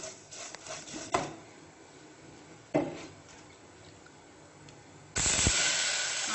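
Milk poured into a hot pan of fried, crisped poha (flattened rice) gives a sudden loud hiss and sizzle near the end, after quieter scraping and a few knocks of a spoon against the pan.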